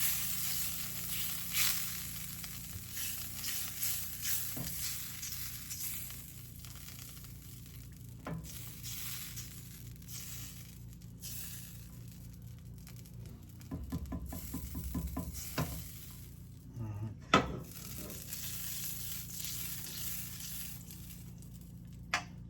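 Melted butter sizzles and crackles faintly in a pan, with intermittent stirring scrapes and soft clatters over a low steady background.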